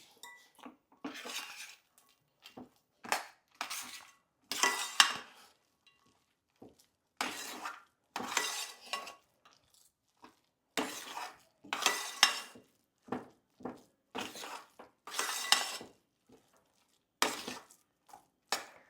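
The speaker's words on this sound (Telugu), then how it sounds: "ఒకసారి అంతా ఒక మిక్స్ ఇచ్చేద్దాం" A spoon stirs and scrapes dabeli filling of fried potato paste in a pan, giving intermittent clinks and scrapes of metal on metal in uneven bursts, close up with no speech.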